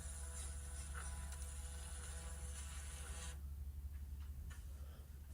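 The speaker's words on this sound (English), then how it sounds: "Press print and calibrate printer," A VLP-100 scale label printer runs its calibration with a steady mechanical whir and high whine for about three seconds, then stops, leaving low hum and a few faint clicks, all close by with no voices.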